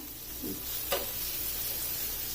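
Mutton tawa boti frying on a medium flame, a steady close sizzle with a couple of brief stirring scrapes partway through, no talking.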